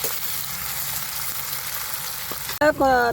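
Onions, tomatoes, green chillies and curry leaves hiss and crackle in oil in a steady, fairly loud sizzle for a small bitter gourd curry, cut off near the end by a brief different sound.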